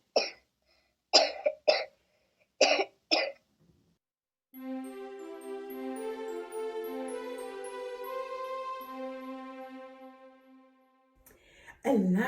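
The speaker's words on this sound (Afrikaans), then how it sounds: "As 'n mens siek is, kan ons ook hoes." Several sharp, separate coughs from a person, four bursts in quick succession, followed by a long sustained tone that is not coughing.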